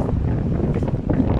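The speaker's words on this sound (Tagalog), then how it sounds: "Ang lakas ng hangin." Strong November wind in Saudi Arabia buffets the microphone in a steady, rough roar, with no voices over it.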